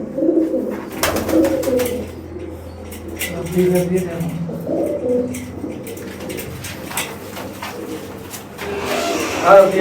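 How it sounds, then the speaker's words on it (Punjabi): Pigeons coo in soft, repeated low murmurs under steady talking, with a few faint chirps and rustles around them. "ਇਹ ਵੀ ਸੋਨੀ ਮਾਮੇ ਵਾਲੀ ਕਬੂਤਰੀ ਦੀ ਆ"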